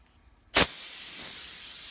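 Air hose fitted with a regulator releases a sudden sharp burst of air, then settles into a steady, close, continuous hiss.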